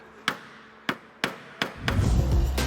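Small hammers and mallets tapping dents out of Porsche 968 bodywork: four sharp, evenly spaced metallic taps, close and loud, followed by a rougher sustained scraping rumble.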